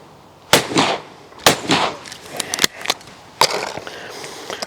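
Side-by-side shotguns fire at driven clays outdoors, with a few sharp, separate booming reports spaced a second or so apart, each trailing off with a short echo.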